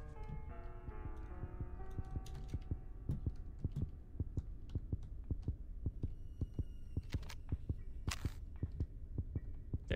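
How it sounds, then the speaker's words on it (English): A heartbeat in the horror video game Granny, a steady rhythmic thumping pulse repeating throughout over a low hum with a few faint tones and ticks. "I hear heartbeats."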